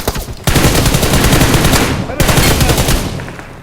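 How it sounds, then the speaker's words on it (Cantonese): Dense crackling bursts of rapid gunfire and fireworks fill a video game battle, loud and continuous in two long volleys with a brief break between them. "啲煙花嘈到我"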